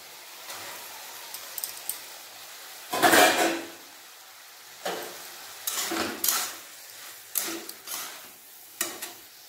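Lentils stirred into a spiced filling frying in a pan for pitha, with several loud scraping strokes of a spatula between quieter sizzling pauses.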